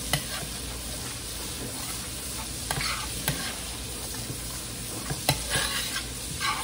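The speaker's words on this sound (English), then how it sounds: "Just keep on stirring it around." Shrimps and garlic frying in a pan while being stirred, a steady sizzle broken by occasional scraping strokes of the utensil, close and continuous with no talking.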